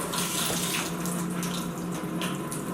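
Water runs steadily from a drinking water tap at a school, a continuous hissing splash at a moderate, even level with no talking.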